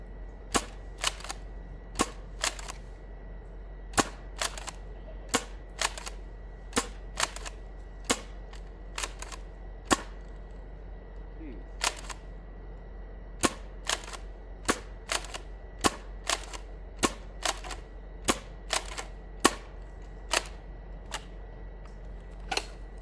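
A Nexus Pro foam dart blaster fires X-Shot air pocket darts in a long series of sharp, close snapping shots, spaced roughly one per second with occasional quick pairs, over a quiet low hum.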